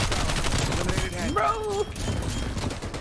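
Rapid bursts of hand cannon fire in a Call of Duty Black Ops Cold War multiplayer match, loud game gunshots mixed with other battle noise while a player shouts over them.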